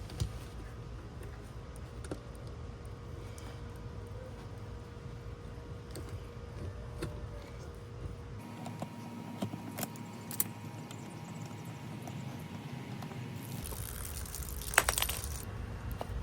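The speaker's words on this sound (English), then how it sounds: "What we're going to do is unthread this old hose bib and thread a new one on." Two wrenches working an old copper hose bib loose: faint metallic clicks, taps and a jangly clink over a low steady background hum, close but quiet, with no talk.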